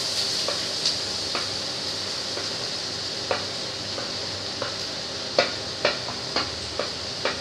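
Chopped onion, green chili, garlic and ginger frying in hot oil in a pan, a steady close sizzle and hiss broken by sharp clicks as a spoon stirs and taps the pan.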